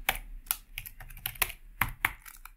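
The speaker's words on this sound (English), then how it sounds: "I just type my password." A password is tapped out on a computer keyboard in a quick, uneven run of close, crisp key clicks, with no talking.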